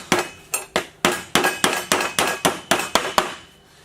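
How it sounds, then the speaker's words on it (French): A hammer drives a nail into the metal corner of a trunk with about eleven sharp, ringing blows, struck close by in a quick, fairly even rhythm. "Et un troisième clou qu'on va planter au centre."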